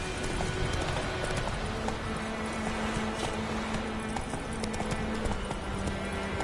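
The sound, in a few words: horse hooves galloping in video game The Witcher 3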